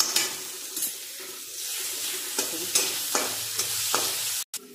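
Onion and green chillies fry in a pan, making a steady close sizzle. Occasional stirring clatters and scrapes break through, with a brief drop near the end and no talking.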